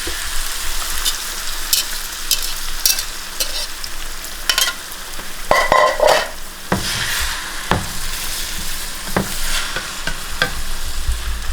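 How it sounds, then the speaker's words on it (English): Eggs sizzle and crackle steadily in a hot pan, close and continuous, with scattered sharp pops and a few utensil scrapes and taps. "I'm putting the eggs in."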